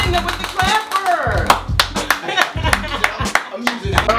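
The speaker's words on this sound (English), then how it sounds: "Clap for Mel Alston with the clapper." A clapper sound effect on a live FM radio show in Philadelphia, giving a quick burst of sharp, rhythmic claps amid lively talk and laughter from the hosts in the studio.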